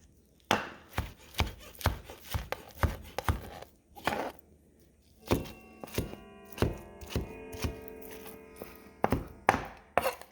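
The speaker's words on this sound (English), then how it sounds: "just chop that up and finish all of it" A knife chops slow-simmered beef birria on a wooden board, giving a series of sharp, close thunks that come in irregular bursts with short pauses between them. No voices are heard.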